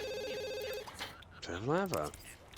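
A telephone rings in The Sims 2 with a steady electronic trill, followed by a gliding synthetic chime while game sounds continue around it.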